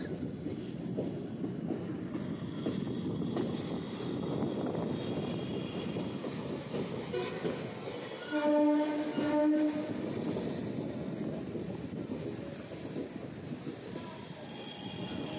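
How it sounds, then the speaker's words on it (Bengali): Howrah–Bandel local train pulling out of Howrah station, a steady low rumble of wheels and carriages throughout, with a brief louder tonal horn-like sound near the middle. "আমাদের ট্রেন এই মুহূর্তে ছেড়ে দিল।"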